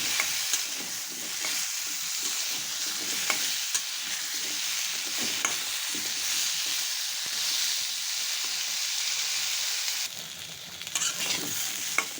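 Steady sizzling of potatoes frying in a pan, a constant crackling hiss with occasional louder pops and scrapes of stirring, no voices.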